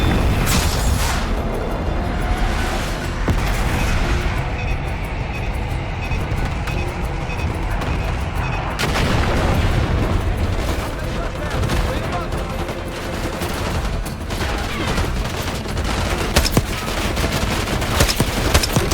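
Bombs falling from an aircraft burst in a string of heavy explosions in the Call of Duty Black Ops 6 video game, loud booms and rumbling blasts with gunfire-like crackle running throughout, a dense, continuous barrage.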